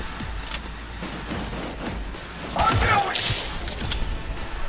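A gunshot in Cyberpunk 2077 cracks sharply just past 2.5 seconds, followed by a brief clattering impact and whoosh, set against a murky game soundscape with low background voices.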